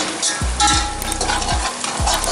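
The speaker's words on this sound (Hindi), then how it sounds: "अब इसको हम प्याज के साथ फ्राई करेंगे ताकि तमाम चीज़ों की खुशबू अच्छी तरह से मसाले में आ जाए" Spices and onions frying in a pot for an Arabian mutton kabsa, with a steady loud sizzle and several sharp scraping stirs of the spoon against the pot, no voices.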